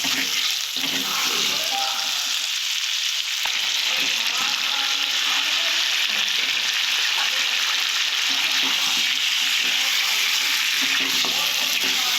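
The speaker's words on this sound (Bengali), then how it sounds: "কিছুক্ষণের জন্য এইরকম কষে নেবে তোমরা" Meat and Malabar spinach fry in oil in a pan, giving a steady, loud sizzle with scraping stir sounds throughout, and no talking.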